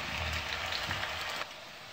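Onion rings deep-frying in a pan of hot oil: a steady, close hiss and crackle of bubbling oil that holds for over a second, then drops to a quieter sizzle.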